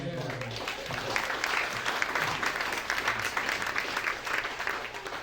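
Audience applause fills a stand-up comedy show at the Jersey Shore, steady dense clapping from a crowd sustained for several seconds with faint voices mixed in underneath.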